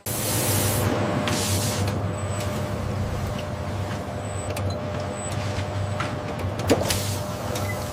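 Robotic nozzles spray fabric in a silk processing facility, a steady close hiss over a low machinery hum with occasional clanks and a short knock near the end.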